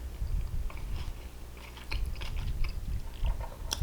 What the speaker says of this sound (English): Eat the raw onion with meat.